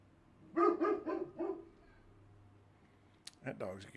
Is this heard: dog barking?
yes